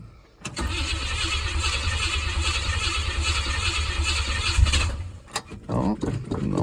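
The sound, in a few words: 1967 Buick Gran Sport engine cranking, given gas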